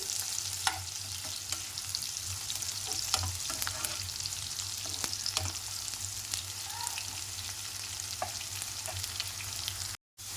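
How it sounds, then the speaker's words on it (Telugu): Onions frying in a pan toward golden for a gongura chicken curry, a steady close sizzle with scattered crackles and soft stirring taps throughout, no voices. "ఆనియన్ కొంచెం గోల్డ్ కలర్ వచ్చే వరకు ఫ్రై చేసుకోవాలండి"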